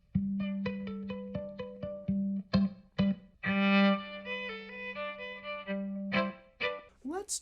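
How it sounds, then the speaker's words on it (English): Clean-toned electric guitar through compressor and reverb plays picked single notes and chiming chords over a held low note, clear and close with bright sustained overtones and short gaps. "Let me mute the room mic, and you can hear my clean tone."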